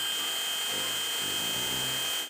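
A power drill with a 13mm bit whines steadily at high speed boring a hole through the center of a cap, loud and close, with the motor cutting off at the end.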